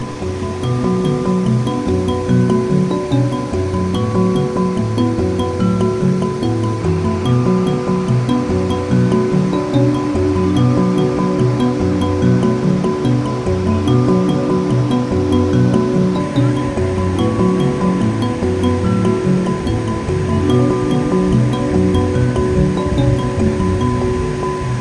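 A river flows along a riverbank at night, a loud, continuous rushing of water with a rolling, surging texture that stays close and steady throughout, with no voices.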